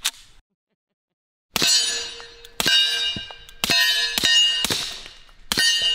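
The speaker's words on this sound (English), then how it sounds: "Staccato P2011 with a silencer on it." A suppressed Staccato P2011 pistol fires six sharp shots at an uneven pace, each crack followed by a bright metallic ring of steel targets, loud and close.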